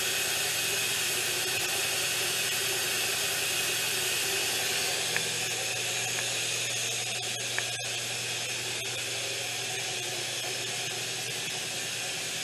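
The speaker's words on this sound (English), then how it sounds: "Air compressor's on and this thing makes noise." A running air compressor fills a garage working on a 1974 MGB GT with a constant loud, broadband hiss and hum, unbroken for the whole stretch, with a few faint clicks on top.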